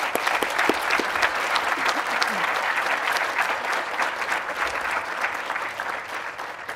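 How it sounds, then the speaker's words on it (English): Commencement audience gives a round of applause for teachers, a continuous bed of many hands clapping with distinct nearby claps popping out, steady and fairly loud with no voices on top. "Please join me in a round of applause of thanks for all of our wonderful teachers."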